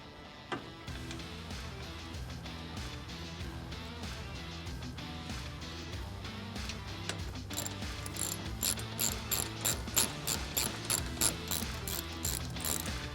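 A hand ratchet clicks rapidly while snugging bolts on a Bestop Trektop bracket for a Jeep JK, close and fairly quiet, with bursts of steady ratcheting that grow sharper and more rhythmic toward the end.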